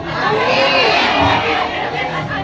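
Crowd of women in a village audience in Tasikmalaya cheering and shouting together at a religious sermon, a dense, loud, continuous roar of voices lasting throughout.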